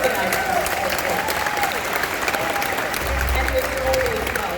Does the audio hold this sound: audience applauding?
yes